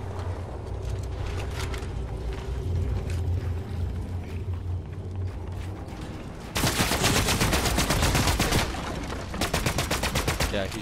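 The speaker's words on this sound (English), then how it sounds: "Yeah, he's shooting at me." Rapid video-game gunfire, bursts of automatic shots growing loud and dense in the second half, with a player talking over the earlier part.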